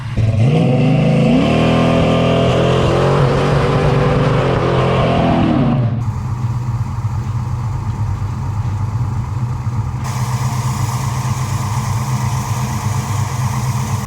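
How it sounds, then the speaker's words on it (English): A car engine roars and revs hard during burnouts, pitch sweeping up and down, then drops to a steady loud idle rumble for the rest of the clip. "fire it up and do some really good burnouts"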